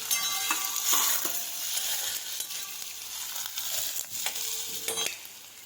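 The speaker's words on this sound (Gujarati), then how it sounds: "ત્યાર પછી સમારેલી ડુંગળી નાખીશું લીલા મરચાં સમારેલા નાખીશું મિક્સ કરી લઈશું" Chopped onion and green chillies fry in a pan for a dal palak dish, giving a continuous close sizzle with intermittent scraping and clinking as they are stirred.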